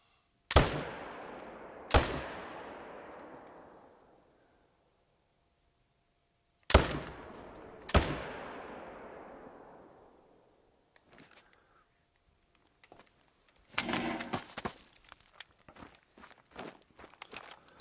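Rifle shots from hunting in theHunter: Call of the Wild, four loud sharp reports in two pairs, each with a long fading echo across open terrain, followed by softer rustling footsteps.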